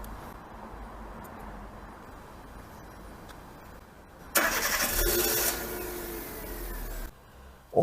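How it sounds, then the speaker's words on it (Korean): A car engine cranks and catches after a remote start from the key fob, heard after a quiet stretch as a sudden loud burst that settles into a steadier idle before cutting off. "이제 키로 원격 시동 걸어 보겠습니다"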